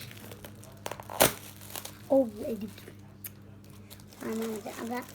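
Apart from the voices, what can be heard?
plastic bag being opened and crinkled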